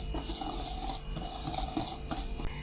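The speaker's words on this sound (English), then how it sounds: "In your mixing bowl, add in the sugar, mix in the lemon rind as well as some of the lemon" A spoon scrapes and clinks against a mixing bowl as sugar, lemon rind and lemon juice are stirred together, in close, uneven strokes with short pauses between them.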